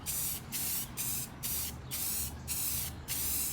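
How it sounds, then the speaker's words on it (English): An aerosol spray paint can sprays a boat in seven short, evenly spaced spurts, each a loud, bright hiss cut by brief gaps, close to the microphone with no talking. "You want to do it in little spurts like that."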